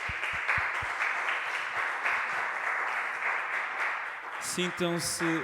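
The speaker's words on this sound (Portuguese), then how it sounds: "Uma salva de palmas a eles." A crowd applauds steadily in a broad, sustained wash of clapping, with a few louder claps near the start and a voice speaking near the end.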